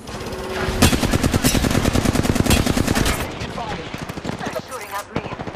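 Rapid automatic gunfire from a firefight in the video game Apex Legends. The close, loud bursts rattle on for several seconds, then break into scattered shots, with game voice lines and effects mixed in.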